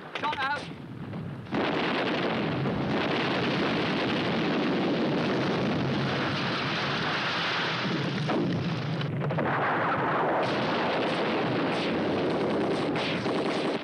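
Artillery battery firing during a military training exercise, a dense, sustained roar of loud blasts and rumble running nearly the whole time, with radio-style voices heard only briefly.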